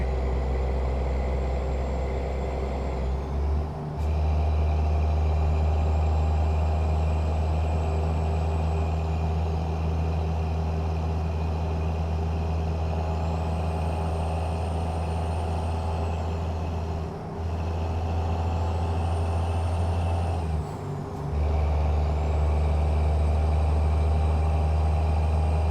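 A Peterbilt truck on a highway in a truck driving game: steady loud diesel engine drone throughout, with short air brake hiss releases around a few moments, no voices.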